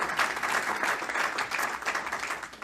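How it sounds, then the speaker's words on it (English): A crowd applauds at an inspirational event after a runner finishes a 5K in 51 minutes, a dense, steady wash of clapping that swells and dips over a few seconds with no voices standing out. "They're really just clapping"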